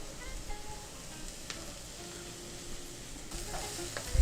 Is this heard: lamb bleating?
no